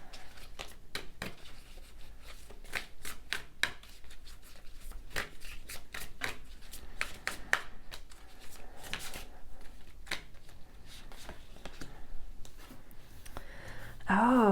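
A deck of astrology cards is shuffled close by, giving a quick run of crisp snaps and soft riffling clicks over a quiet background.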